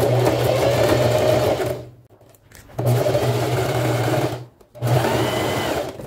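Sewing machine running in two long bursts of steady motor whir with a needle-driven hum, stopping briefly between passes while stitching a seam that will be turned out to show a narrow binding.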